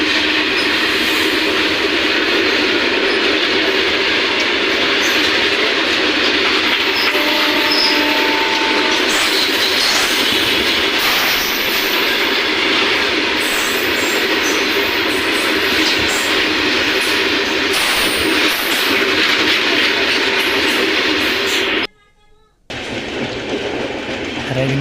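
A passenger train runs steadily along the rails with a continuous loud rumble and rhythmic clatter, briefly dropping out near the end before resuming.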